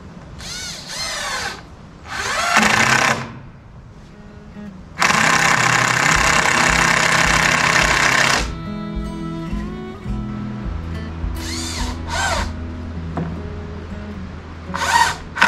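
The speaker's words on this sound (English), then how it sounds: "I'm just gonna screw them into these girts" A power drill drives screws into pole barn girts in several short whirring bursts and one longer run, loud and close, with pauses between screws.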